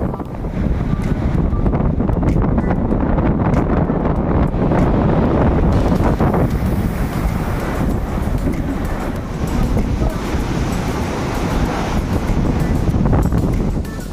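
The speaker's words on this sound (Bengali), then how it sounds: "সমুদ্রের ফুরফুরে হাওয়া," A sea breeze on the beach at Digha, beside a resort's seaside seating area, buffets the microphone with loud, continuous gusts that swell and ease over a dull roar, with no clear talk.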